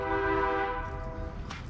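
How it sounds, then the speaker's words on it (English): A single sustained air horn blast, fairly loud and steady, trailing off as background noise takes over. "So many damn air horns here, and there it goes again."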